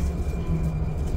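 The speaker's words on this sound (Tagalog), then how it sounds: "Napakabilis ng tren nila." A metro train speeds through an underground tunnel in Prague, a steady loud low rumble with a faint high whine, continuous and close throughout the short stretch.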